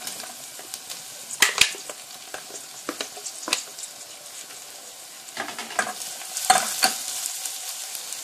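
Chorizo and ham frying in a pan for Castilian soup, a steady close sizzle broken by sharp scraping stirs of a utensil against the pan, with no voices.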